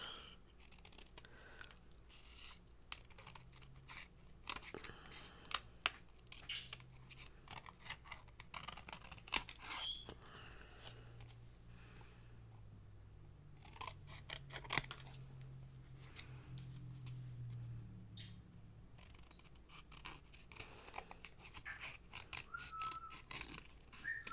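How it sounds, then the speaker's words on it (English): Titanium scissors trimming orange paper at a craft table, giving a series of short, crisp snips and faint rustles scattered at a quiet, close level over low background hum. "I'll use these new titanium scissors"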